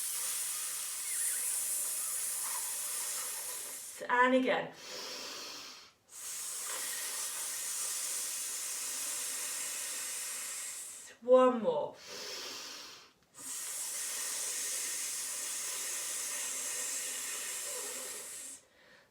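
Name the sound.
children imitating a snake's hiss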